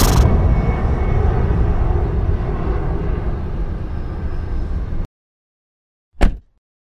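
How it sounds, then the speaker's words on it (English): A steady airplane roar drones loudly for several seconds, then cuts off abruptly, followed by a brief soft thump. "I go there by airplane."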